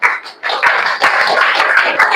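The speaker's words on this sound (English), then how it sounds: "May I request everyone to give our esteemed speaker a huge round of applause." An audience at a university live event applauds the speaker, a loud, close burst of clapping that starts after a brief hesitation and holds steady for a couple of seconds.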